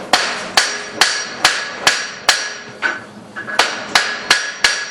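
Hammer blows on a horseshoe set over a cut-off hardy at the forge, about eleven sharp metallic strikes in a steady rhythm over five seconds, close and loud with ringing high overtones and no talk.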